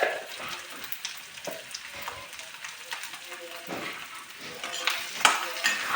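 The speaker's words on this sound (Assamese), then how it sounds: "হালধি গুড়াখিনি দিয়াৰ পিছত মই আকৌ ধুনীয়াকৈ এনেদৰে ভাজি লৈছোঁ" Potatoes dusted with turmeric powder fry in a pan while a spatula scrapes and clinks against the metal, a crackling sizzle under continual stirring clatter, with a voice talking over the cooking.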